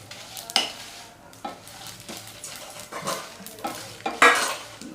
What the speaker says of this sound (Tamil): இப்போ பொரியுது பாருங்கள் சவுண்டு வருதா